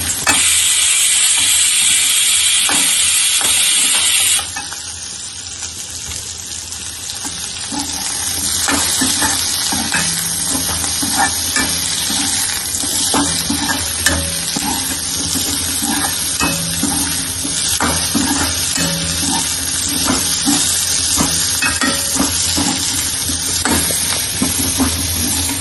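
Cut drumsticks sauté in a pan with browned onions for South Indian sambar, a steady hiss and sizzle that starts loud, then drops and settles into constant frying noise with scattered stirring clinks.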